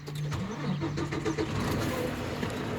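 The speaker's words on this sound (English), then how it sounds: "Now I'm going to go ahead and start the truck." A truck engine cranks and catches during an in-cab pre-trip inspection, with rapid starter chugs that settle into a close, rumbling idle.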